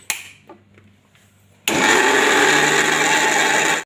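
After a few quiet clicks, a mixer grinder roars to life and whirs loudly and steadily, grinding soaked lentils and rice into a wet dosa batter up close.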